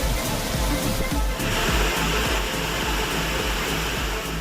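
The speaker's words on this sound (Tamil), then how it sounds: "திருமூர்த்தி மலையில் பெய்த கனமழையால் பஞ்சலிங்க அருவியில் வெள்ளப்பெருக்கு ஏற்பட்டுள்ளது" Flooded Panchalinga falls in the Thirumoorthy hills after heavy rain, a steady broadband roar of rushing water, loud and continuous throughout with no voices.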